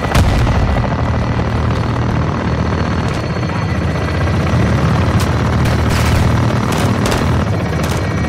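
Artillery strike in Call of Duty Modern Warfare II: a continuous loud roar of rumbling fire and heavy booms with rotor-like droning, sustained and dense throughout with sharp cracks scattered near the end.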